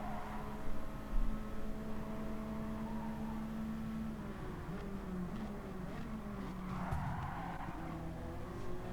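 Race car engine droning steadily with tyre noise and skids during a Gran Turismo 7 replay, a sustained loud engine tone that shifts pitch partway through with a brief squeal near the end.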